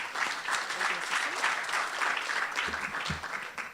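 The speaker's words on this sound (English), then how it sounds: "Let's give him a round of applause." A crowd applauding steadily at a Nelson Mandela University gathering, dense clapping that fills the whole stretch without pause, with some faint low sounds near the end.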